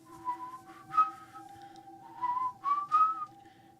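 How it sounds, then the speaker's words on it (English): A person whistles a wavering, eerie tune in short phrases, clear and fairly close, with a steady electronic hum underneath. "and they hear the whistling"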